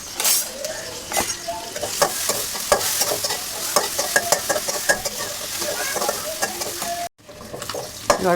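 Onion and garlic paste fry in a pan for cabbage and shrimp bhaji, a dense continuous sizzle with the repeated scrape and clink of a spoon stirring against the metal throughout.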